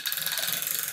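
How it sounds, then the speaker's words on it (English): Ratchet mechanism of a homemade clock mainspring winder clicking in a fast, even run of small mechanical ticks, close and clear with no voices. "Here you can see the other half of the ratchet that I've used"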